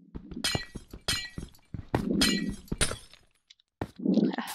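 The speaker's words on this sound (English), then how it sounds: "I kind of wanted to destroy some of their glass." Glass blocks shattering in Minecraft Bedwars, a rapid series of crisp breaking crashes with sharp clinks, several bursts in quick succession with short pauses, loud and close, no talk over them.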